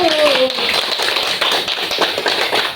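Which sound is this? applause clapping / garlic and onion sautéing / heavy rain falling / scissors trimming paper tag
applause clapping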